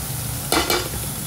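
A spatula stirs pav bhaji masala into pav bhaji frying in a pan, with a steady sizzle underneath and two short, louder scraping strokes in the middle of the clip.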